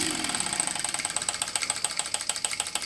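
A small Mamod Centurion model steam traction engine runs fast and steady on live steam with its drive band off, rapid rhythmic chuffing and a metallic clatter, close by, with no talking.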